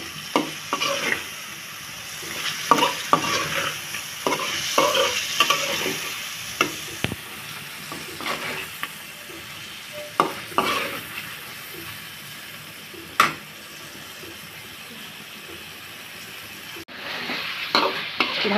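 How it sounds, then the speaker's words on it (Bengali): Magur catfish pieces stir-fried in spice paste in a pan over low heat, with a steady sizzle broken by repeated scraping and stirring strokes. No one speaks. "এখন এই মশলার মধ্যে মাছগুলোকে খুব ভালো করে কষাতে হবে, জাল কমিয়ে কষাতে হবে"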